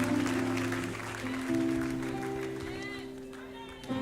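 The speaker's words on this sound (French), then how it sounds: "Acclame, acclame, acclame." A church congregation applauding during a sermon, a sustained wash of clapping that carries through the whole moment, with a preacher's voice ringing over it.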